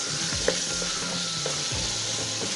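Onions sautéing in oil in a pot for sambar, a steady close sizzle with occasional soft clinks and scrapes of stirring.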